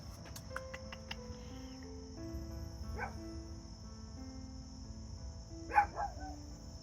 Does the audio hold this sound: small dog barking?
yes